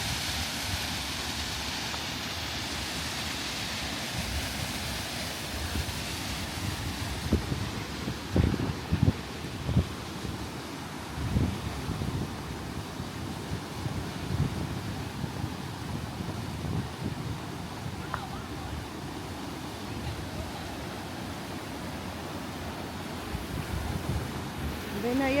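Rushing water from a waterfall and river inside a Utah cave, a steady broad roar that holds throughout with a few brief louder splashes, no voices.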